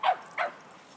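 Two quick, high-pitched yaps from a small dog, close by, followed by quiet.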